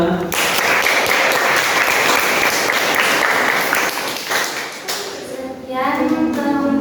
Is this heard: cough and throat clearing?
no